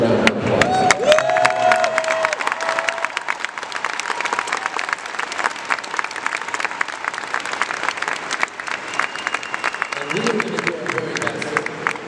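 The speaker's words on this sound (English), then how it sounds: "You owe yourself a giant, thorough, and emotional round of applause." Audience at a 2017 London fan fest Q&A panel breaks into loud, sustained applause with scattered cheers, a dense wall of clapping that carries on steadily for the full twelve seconds.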